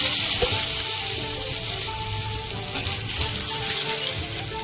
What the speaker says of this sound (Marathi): कांदा आणि टोमॅटो थोडं परतायला ठेवलेलं आहे।